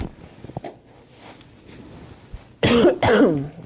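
Two harsh coughs come close together near the end from someone getting over a cough, loud and close after a quiet stretch with faint rustles and a low fan-like hum.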